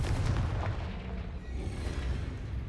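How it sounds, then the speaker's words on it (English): A fiery Confringo spell explosion in the Hogwarts Legacy video game, a dense rumbling boom that rolls on with a low, sustained roar for a few seconds, loud and close, with no talk. "Confringo."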